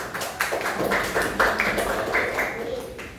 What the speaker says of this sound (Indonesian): yuk beri tepuk tangan temannya